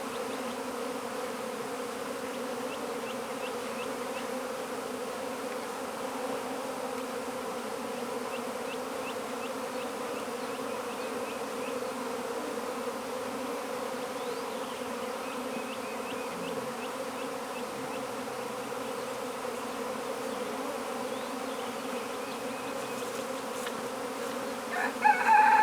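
Honeybees buzz around an open hive holding queen cells, a steady layered drone of many wings close by, with a rooster crowing faintly in the distance.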